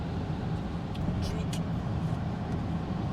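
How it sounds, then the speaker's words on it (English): Steady, fairly loud low rumble of engine and road noise inside a moving car on a wet Scottish drive home, continuous throughout with a faint murmur in the background. "Right, I'm back in the car,"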